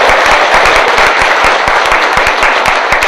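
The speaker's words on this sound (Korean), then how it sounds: "다시 한번 감사의 박수 부탁드립니다" Sustained audience applause after a lecture at a future technology forum concert, many hands clapping densely and loudly with no speech over it.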